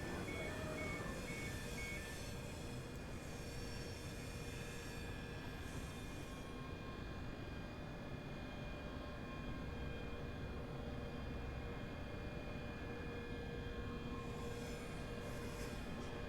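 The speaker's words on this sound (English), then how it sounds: "Here comes the train." A train in Train Simulator Classic rolls into a station platform, a steady low rumble and hum with a faint tonal whine, fairly quiet and continuous throughout.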